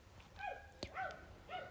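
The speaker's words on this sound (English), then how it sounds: "Those are dogs outside my house." Dogs bark outside a house, a few short, faint, distant yips and barks spread over under two seconds.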